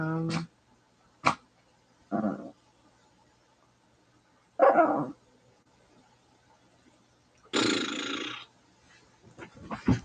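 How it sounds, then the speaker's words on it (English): A dog gives several short, sharp barks spaced out with quiet gaps between them, fairly close, followed by a longer noisy burst near the end. "come here, dog."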